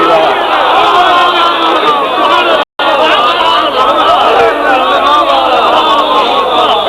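A large gathering at a majlis chants religious slogans, loud massed voices roaring together without letup except for a brief dropout midway.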